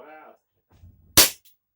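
A single sharp crack from a Taurus PT 92 replica BB pistol, loud and close, following a brief stretch of speech and faint handling noise.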